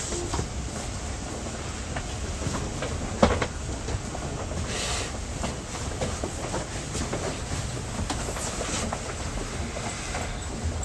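Onboard running sound of a Hankyu 8300 series train between Tenjimbashisuji 6-chome and Tengachaya, a continuous rumble with faint rail clicks and a brief thump around the middle, steady and moderately loud without speech.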